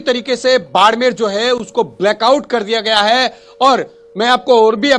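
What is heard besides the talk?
No distinct noise like a dog, phone or traffic.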